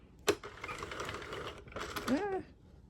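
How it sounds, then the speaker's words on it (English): An Addi King or Sentro 48 knitting machine being cranked makes a faint mechanical clatter with a sharp click near the start, and a voice briefly speaks toward the end. "just keep turning your machine until the whole project comes off"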